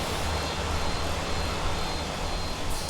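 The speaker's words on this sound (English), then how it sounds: "An airplane." A steady, loud airplane engine drones continuously in the Motor Town video game, a broadband roar with no breaks and no other sounds.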